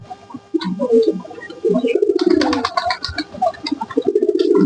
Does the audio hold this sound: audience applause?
no